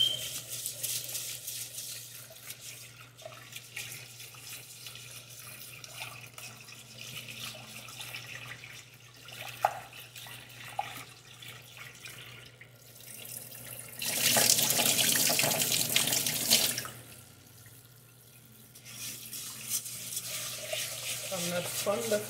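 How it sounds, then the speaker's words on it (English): Rice is washed in water at a kitchen sink, with soft swishing and a tap running in a loud burst midway, while a person talks over quiet background noise. "I'm washing these rice."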